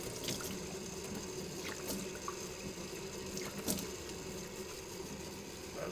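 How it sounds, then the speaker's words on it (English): Water pours steadily into a vessel with an even, continuous splashing rush, close and moderately loud, with a few faint clinks on top and no talk. "Water, more water?"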